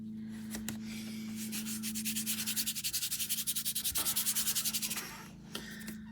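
Granny Apple Green chalk is scraped against a surface in a quick run of rhythmic rasping strokes, close and fairly loud, with a low steady hum underneath and brief pauses before and after.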